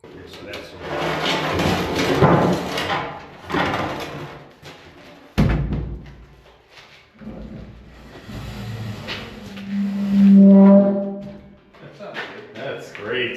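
Four 2x10 wooden beams slide into place in the basement of a collapsing old corner store during post-and-beam work, giving a scraping slide and a sharp thud amid voices talking.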